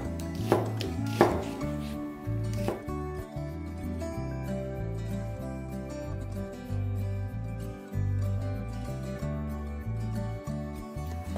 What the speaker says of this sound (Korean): 채를 썰어 주세요.